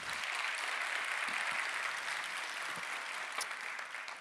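A large conference audience claps loudly and steadily throughout, a dense wash of applause with no speech over it.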